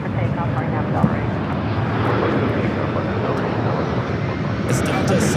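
Delta Boeing 757 sports charter to Denver taking off from runway 24 left at LAX, a loud, steady jet roar throughout, with a voice speaking over it.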